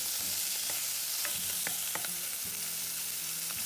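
Shrimp frying in olive oil in a hot pan for Spanish brothy rice: a steady, dense sizzle with a few soft clicks and scrapes from stirring, close and continuous.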